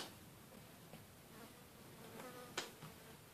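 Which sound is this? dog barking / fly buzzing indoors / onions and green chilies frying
fly buzzing indoors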